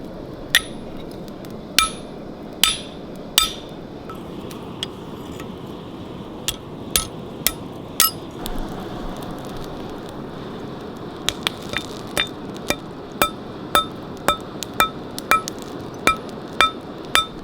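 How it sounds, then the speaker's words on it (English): A hammer strikes hot steel while forging the point of a spoon carving knife with basic tools, giving sharp ringing blows in uneven bursts, some spaced apart and some in quick series, close and prominent over a low background hiss. "As I forge down on this point to create a point, it gets thicker"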